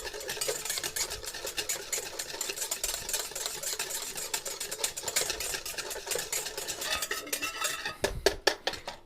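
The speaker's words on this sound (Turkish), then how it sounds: "Şöyle güzelce çırpıyorum." A whisk beats a salted fish sauce for fish skewers in a bowl, giving fast, steady metallic clicks and scrapes against the bowl that run close and continuous before a few sharper final taps.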